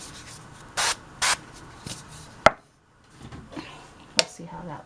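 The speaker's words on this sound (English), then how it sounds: "And I'll spray this side too." Two short hissing sprays of oil onto pita bread in quick succession, close by, followed by quiet kitchen scraping and clatter.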